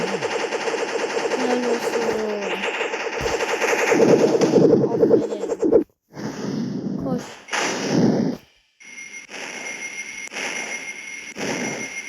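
Loud, sustained machine-gun fire in a video game comes in long rattling bursts broken by brief pauses, with a voice talking over parts of it.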